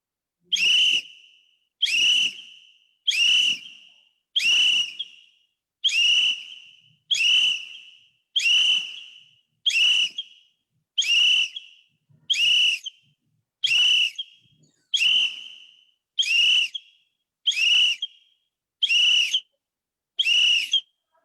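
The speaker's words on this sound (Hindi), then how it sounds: "अब हम ये विसल की सीटी के साथ करेंगे" A whistle is blown in a steady, evenly spaced series of about sixteen loud, sharp blasts to count exercise repetitions during a children's play date session, clear and alone with no talk.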